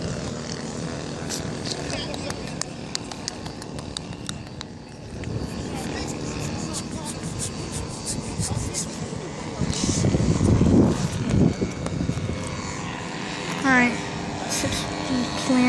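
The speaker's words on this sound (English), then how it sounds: "I hear like here comes a big Cessna" A Cessna light propeller airplane drones overhead at an airfield, a steady engine hum that swells louder midway as it passes nearer, with people talking over it.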